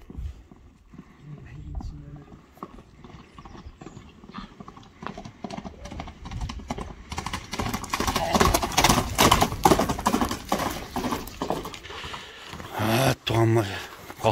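A horse runs with a rapid, rhythmic clip-clop of hooves that grows louder and nearer over the second half, with voices heard over it and a few sharper knocks near the end.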